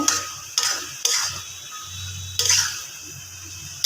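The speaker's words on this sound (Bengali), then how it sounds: "শাকগুলো দিয়ে এখন ভালো করে নাড়া দিয়ে দিব" Malabar spinach and shrimp being stirred in a pan, with several sharp scraping strokes of the spoon over a low, steady sizzle, close and moderately loud.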